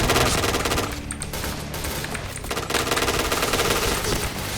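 Rapid bursts of automatic gunfire from a battle royale video game, a dense, continuous rattle of shots that stays loud throughout with no talking over it.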